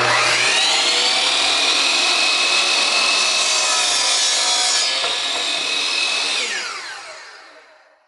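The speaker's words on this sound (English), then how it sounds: "And then I have a laser on my, my on my compound miter saw also that helps." Compound miter saw cutting wood for a picture frame: a loud, steady whining cut with no talk that runs for about six seconds, then winds down and fades out as the blade slows.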